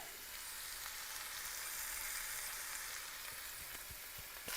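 Steady, loud sizzling of chicken frying in a pan, a continuous crackling hiss with occasional pops, no voices.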